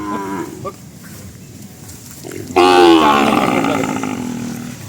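A bull lets out one long, loud moo close by, preceded by quieter, softer lowing.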